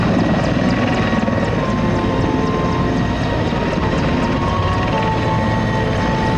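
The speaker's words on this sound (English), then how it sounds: "Now the Hind helicopter is a large attack helicopter" A Mi-24 Hind attack helicopter drones steadily overhead, its rotor thumping in a constant loud beat over a dense engine roar, with no voices.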